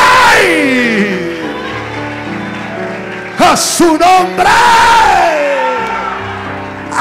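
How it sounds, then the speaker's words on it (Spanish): Congregation at a church service cheering and whooping for Adonai, loud sustained shouts and yells swelling around a strained, preaching voice, with a short burst of louder crowd noise midway. "Un aplauso fuerte a Adonai"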